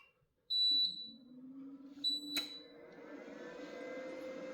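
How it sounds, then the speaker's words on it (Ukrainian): Two sharp high-pitched electronic beeps from the alarm of a Powerware (Eaton) PW5115 750i UPS, about a second and a half apart, over a steady low hum and whirring fan noise. "Глушимо його пищалку"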